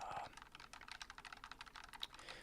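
Soft, quiet keystrokes tap out in an irregular, rapid rhythm on a Razer Huntsman Tournament Edition keyboard, close up and alone.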